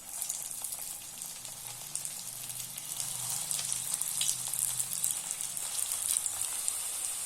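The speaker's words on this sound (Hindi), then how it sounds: "तेल गरम हो गया है। एक एक करके बॉल डालेंगे।" Soya kofta balls dropped one by one into hot mustard oil in a kadai, a bright steady sizzle that swells louder as more go in, close and continuous with no talk.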